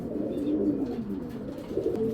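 Army pigeons coo softly in low, wavering calls against a steady background hum, with a second rolling coo near the end.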